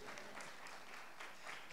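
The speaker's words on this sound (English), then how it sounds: "So everyone clap for Julian." A group of people in a counselors' session claps for a new participant, giving a brief, soft, even patter of applause.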